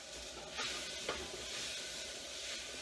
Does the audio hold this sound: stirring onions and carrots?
yes